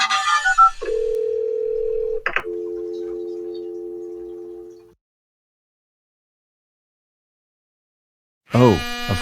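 A steady telephone dial tone hums for a few seconds after a short click and tone burst, then cuts to silence before a brief burst of beeping tones.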